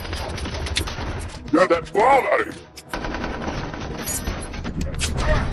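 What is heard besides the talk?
gunfight in a film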